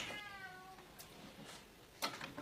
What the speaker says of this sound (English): you have to excuse the cat crying because she wants to go outside